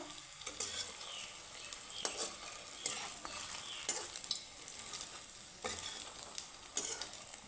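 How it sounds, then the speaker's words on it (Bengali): Paneer kofta frying in hot oil, a continuous bright sizzle with scattered crackles and spoon scrapes as the pieces are stirred, close by with no talking. "এখানে পনির কোপ্তাগুলো কিন্তু ভেজে নিয়েছি লাল লাল করে।"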